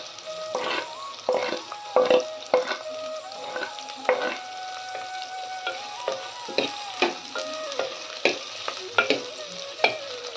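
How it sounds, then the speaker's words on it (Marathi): Chopped onion and dried red chilies with their seeds sauté in a pan, a soft sizzle broken by repeated scraping strokes of a spatula at a steady rhythm, with a faint tonal hum running underneath. "त्याला छान लाल होईस्तर परतून घ्यायचं आहे व आपण कापलेली मिरची सुकी मिरची बिया सहित टाकायची"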